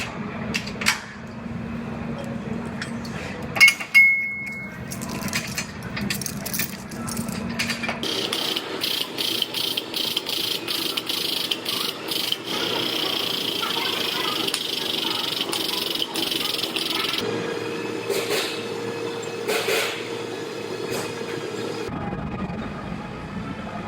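A frame bench pulls a Jeep frame to square it, sounding as clanking ratchet clicks, mechanical knocks and chain tension, with bursts of hydraulic whirring and a loud metallic bang near the start.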